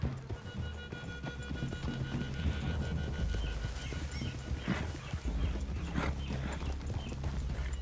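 Horse hooves clopping at a steady trot in Red Dead Redemption 2, several horses close by on soft ground, with quiet game ambience and occasional heavier hoof hits.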